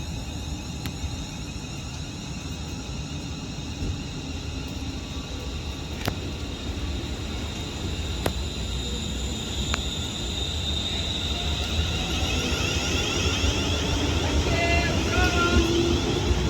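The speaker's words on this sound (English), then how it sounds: "Now departing is going to be the 1429 London Northwestern Railway service to Birmingham New Street from Liverpool Lime Street" At Runcorn station a London Northwestern Railway service from Liverpool Lime Street to Birmingham New Street departs, a continuous low rumble with rail squeal that slowly builds over the clip, a few sharp clicks along the way, heard from the platform.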